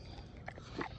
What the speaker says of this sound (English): A lot of chewing going on.